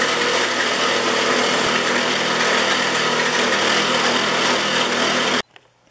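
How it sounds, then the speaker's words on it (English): Wire wheel spinning against rusty screws from a Stanley No. 129 Liberty Bell fore plane, a loud, steady, high whirring grind held for about five seconds before cutting off abruptly into near silence. "when that's done, they go over to the wire wheel"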